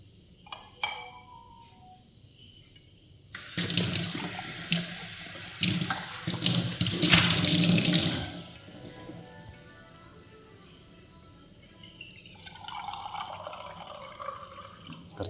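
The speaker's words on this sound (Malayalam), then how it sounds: "വാട്ടർ, പ്യൂരിഫൈഡ് വാട്ടർ ചേർത്ത് കൊടുക്കാം." Purified water poured into a pot of chicken curry, a loud gushing splash for several seconds, followed by quieter trickling and stirring.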